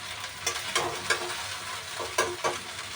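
Okra frying in a wok (kadhai), with steady close sizzling broken by a series of distinct scraping stirs spaced about every half second, with no voices.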